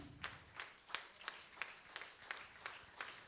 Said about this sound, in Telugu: జోరుగా క్లాప్స్.